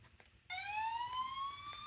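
A fire engine siren from a children's push-button sound book starts abruptly after a quiet moment, a steady rising electronic wail, small and tinny, playing alone.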